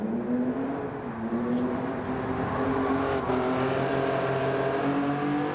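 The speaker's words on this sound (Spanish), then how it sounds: "se oye ahí acelerar y desacelerar el motor" Lamborghini Countach from 1974 in the Gran Turismo 7 racing game, its engine revving up and easing off in rising and falling pitch, loud and steady with no talking.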